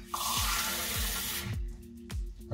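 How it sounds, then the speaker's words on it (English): A cup of water poured into gluten- and dairy-free crepe batter made with oat milk, a steady splashing stream that runs loudly for about a second and a half, then stops, followed by a few low knocks. "1 cup of water coming."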